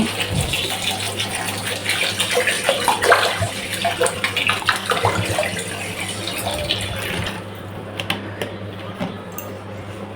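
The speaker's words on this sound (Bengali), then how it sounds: "এখন এর ভিতরে পানি দিয়ে দেবো" Water pours and splashes into a cooking pot holding rice and potatoes, a loud, close, bubbling gush for several seconds that then drops to a faint trickle.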